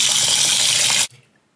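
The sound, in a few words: rice being washed in water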